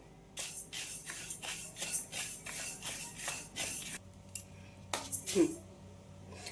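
Urad dal roasting in a pan on low flame for chakli bhajani flour, with a steady run of scraping and rattling strokes as the lentils are stirred, then a few louder clinks.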